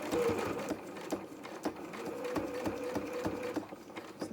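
A sewing machine stitches felt flower petals, its steady mechanical whir running close and loud with regular rhythmic needle clicks throughout.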